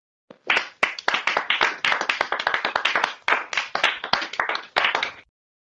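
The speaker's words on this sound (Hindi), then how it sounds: "बच्चे तालियां बजाने लगे" Children clap together in a village gathering, a dense run of sharp, uneven handclaps lasting about five seconds, close and fairly loud, with no voices.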